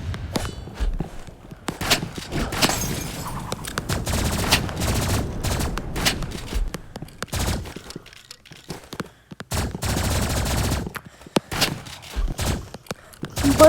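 Video-game gunfire from shotguns and energy pistols comes in rapid bursts and single heavy blasts, mixed with footsteps and thuds, all loud and close with brief gaps of quiet between volleys.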